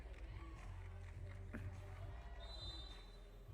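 Crowd noise at a FIBA 3x3 women's basketball final between Japan and Australia, a steady arena roar with ball bounces and footsteps on court, lasting a few seconds beneath commentary.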